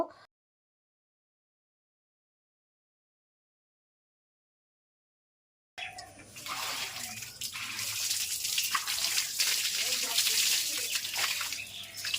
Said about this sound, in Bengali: এদিকটায় হচ্ছে তুলসী মঞ্চটা একটু ধুয়ে দেব